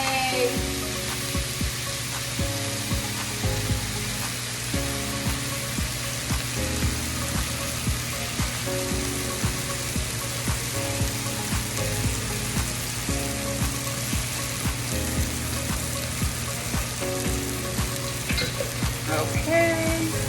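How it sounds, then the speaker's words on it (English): Beef and broccoli sauté in a pan, a continuous close sizzle with scraping, stirring clicks and knocks from a utensil, steady in loudness and with no voices. "We just want to saute everything, guys. Let's get everything nice and sauteed."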